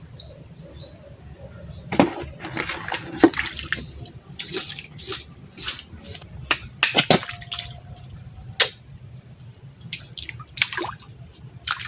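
Freshly gathered clams are washed in water: sharp splashes, drips and clattering shell knocks come in irregular bursts, close and fairly loud, with running water underneath.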